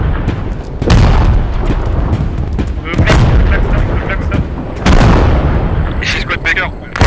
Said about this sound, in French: j'envoie l'artillerie sur le marqueur.